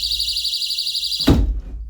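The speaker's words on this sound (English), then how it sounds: "they'd then be met by this audible alarm" A window security sensor sounds its audible alarm as a loud, steady high-pitched electronic tone, holding alone for over a second before cutting off abruptly into a short thump and quiet.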